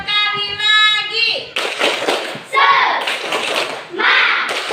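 Children in a classroom clap together in a rhythmic spirit chant, bursts of hand claps alternating with group chanting voices and a child leading.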